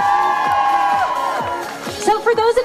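A festival crowd cheers and whoops at a cosplay fashion show during the Sakura Matsuri festival in DC, a dense, loud swell of voices mixed with ringing tones and scattered shouts.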